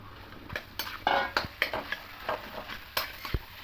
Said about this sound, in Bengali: এবার এটা দিয়ে একটু ভালো করে মিশিয়ে নেব